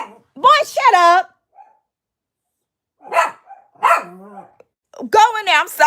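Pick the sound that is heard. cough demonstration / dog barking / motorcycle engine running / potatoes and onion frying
dog barking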